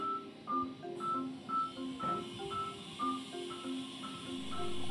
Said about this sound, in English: So this callback sound will tell the rat you have to go back to base.